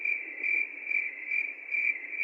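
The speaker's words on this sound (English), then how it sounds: "Somebody kill those fucking crickets, man!" Crickets chirping in a loud, steady run of pulsed trills, repeating about every half second and sounding close and alone.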